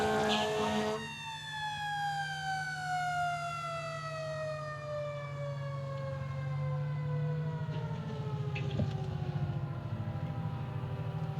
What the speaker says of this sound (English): I would say that their sirens are in good working order.